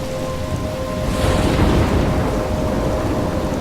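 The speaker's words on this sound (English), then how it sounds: "I'm trapped in a storm?" Steady rainstorm with low rumbling thunder in the video game Life is Strange, a dense wash of rain that swells into a louder roll mid-clip and then holds, with no voices.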